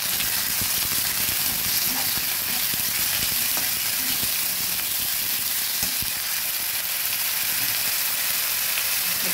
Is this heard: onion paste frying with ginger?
yes